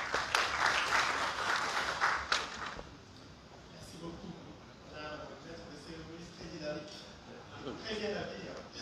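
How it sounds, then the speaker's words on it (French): Loud applause from a press conference crowd in Chad for a few seconds, cutting off abruptly, followed by quieter room sounds and a voice speaking. "Nous applaudissons très très fort pour lui"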